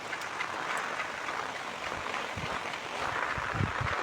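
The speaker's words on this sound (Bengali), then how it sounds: "প্রচুর বৃষ্টি হচ্ছে এখন" Heavy rain during a Kalbaishakhi storm over farmland in Bangladesh, a constant broad hiss of downpour with occasional low gusty thumps, close and unbroken, with no voices.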